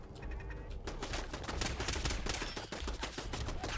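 A gun in Fallout 4 firing a rapid, loud, continuous stream of shots close up with no talking.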